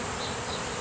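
A honey bee swarm with a virgin queen settling on a box, giving a dense, steady buzzing drone that fills the whole moment with no voices over it.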